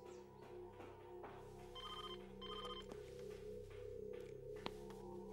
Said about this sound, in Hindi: भाव गुप्ता प्रोड्यूसर का फोन है।